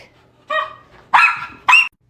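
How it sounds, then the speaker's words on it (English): A small dog barks three times in quick, close yips, each sharp and loud with short pauses between, alone without any voices. "You're one ugly little dog."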